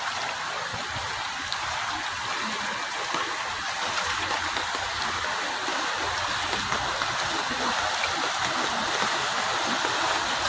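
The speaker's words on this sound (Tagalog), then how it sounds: "grabe, ang lakas pa ng agos." Strong floodwater from Typhoon Carina rushes through Olongapo City streets, a steady, moderately loud broadband roar of flowing current heard from nearby without pauses.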